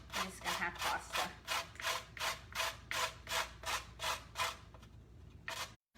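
A carrot grated by hand against a grater in a kitchen, rhythmic rasping strokes about twice a second, close and moderate, slowing and stopping at the end.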